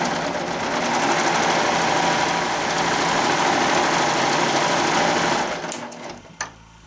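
An embroidery machine stitches a curling iron case in the hoop, whirring in a steady, loud, fast mechanical rhythm for about six seconds before winding down with a couple of final clicks.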